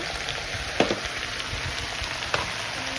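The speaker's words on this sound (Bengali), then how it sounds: "চিকেন স্টক পাউডার দিয়ে ভালো করে ভেজে নিচ্ছি" Noodles frying in a pan with chicken stock powder, a continuous even sizzle with a couple of sharp clinks or stirring knocks, moderately loud and steady.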